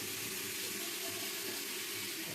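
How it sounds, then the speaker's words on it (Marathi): Water runs steadily into a large plate, a continuous gushing splash like a tap filling a vessel, close and even throughout with no talk. "ते मोठं ताट घ्या आणि त्याच्यात पाणी भरा."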